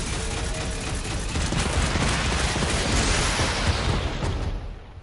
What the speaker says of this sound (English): Let's see if I can catch it with my missile.